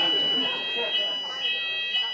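Shrill electronic fire alarm sounds inside a comedy venue during a stand-up set, a high steady tone pulsing over crowd murmur and a speaking voice.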